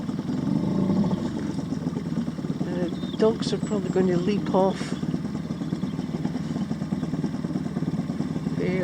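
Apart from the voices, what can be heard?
boat outboard engine running near the beach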